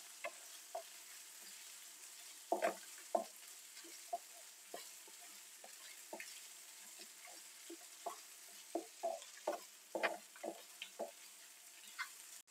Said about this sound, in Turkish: Domates salçamla beraber güzelce bir 1-2 dakika daha kavuracağım ki domates salçasının kokusu gitsin.